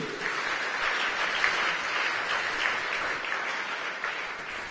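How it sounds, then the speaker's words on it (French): A church congregation applauds during a sermon, a dense, continuous wash of many hands clapping at steady volume, with no distinct voices over it. "Acclamons les chrétiens de Béret."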